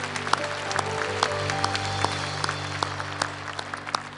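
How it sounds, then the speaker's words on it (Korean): A congregation at a Korean church service claps steadily and evenly, with a held tone sounding softly beneath the applause. "믿음의 주님께 감사의 박수 올려드립니다."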